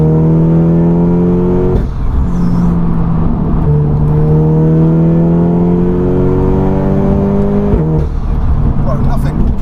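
A stripped-out Audi S3 saloon tuned to 406 bhp revs hard close by from inside the cabin, its engine note climbing steadily through the gears with brief breaks at each shift, loud and continuous.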